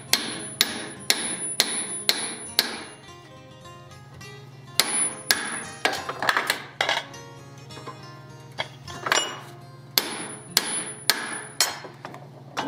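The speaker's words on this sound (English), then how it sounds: "I'm going to do a couple hammer blows to get the rivet to start here" Hammer blows on the rivet of a pair of blacksmith tongs, sharp ringing metal strikes in quick bursts of several hits with short pauses between, close and loud, with a steady hum in the background.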